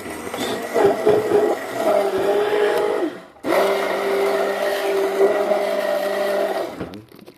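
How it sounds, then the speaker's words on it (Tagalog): A hand blender blending beetroot, carrot, apple and guava for juice whirs loudly and steadily, stops briefly, then starts again and runs at a constant pitch before cutting off. "Lakas talaga ng hand blender mo."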